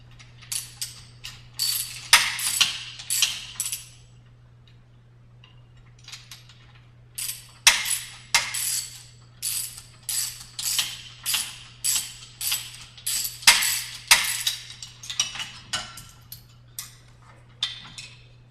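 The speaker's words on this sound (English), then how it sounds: "as this last nut comes off, the whole assembly should come out" A ratchet wrench loosens nuts on an eccentric hub assembly, giving bursts of rapid, crisp ratcheting clicks up close. A steady low hum runs underneath, with short pauses between bursts and no talking.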